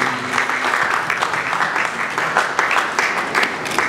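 Dense, loud audience applause in a hall, many hands clapping steadily throughout with no clear talk over it.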